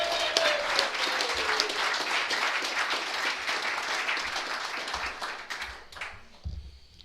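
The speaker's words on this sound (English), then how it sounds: "a big round of applause in welcoming Dave and Tamara back to the meeting" A room of people at a meeting applauds in welcome, a full burst of clapping that holds steady for several seconds and then thins out and fades near the end.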